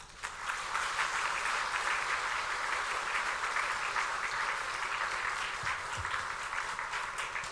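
A church congregation gives sustained, loud applause to welcome the pastor at a Sunday morning worship service, a steady dense roar of clapping with no talk over it.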